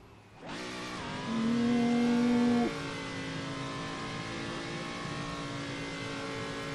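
Race car engine in rFactor 2 holding a steady high drone through donut spins, rising to a louder sustained rev early on before settling into a continuous whine.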